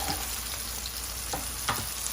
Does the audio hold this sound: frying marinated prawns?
yes